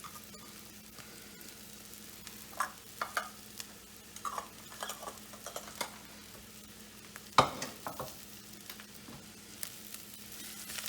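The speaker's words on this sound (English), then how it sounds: "Give it a nice mix." Cilantro filling being mixed in a pan off the heat: quiet, sparse scraping and tapping of a spoon against the pan over a faint background hum, with one sharper clack partway through.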